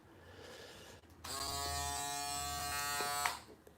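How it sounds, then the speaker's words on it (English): A Braun electric shaver from around 2000 switches on after a short pause and holds a steady, close, loud buzz for about two seconds before cutting off. "We'll start with the electric shavers."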